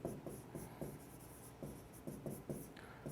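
Pen writing on paper while a tutor works out a budget calculation problem: short bursts of scratchy strokes in an uneven rhythm, close and fairly quiet, with no talking over them.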